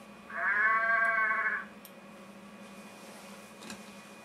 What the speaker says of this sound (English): I got random ambient cheap baa sounds going on there